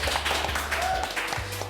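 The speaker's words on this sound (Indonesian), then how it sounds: "Kita beri tepuk tangan." Studio audience briefly clapping to welcome a guest on an Indonesian health talk show, a short burst of light, scattered applause.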